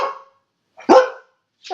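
A dog named Charlie barks indoors, giving three short, loud, close barks spaced about a second apart with silent gaps between them.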